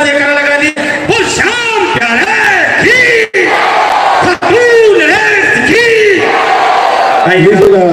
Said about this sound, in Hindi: जोरदार जयकारा लगा दी।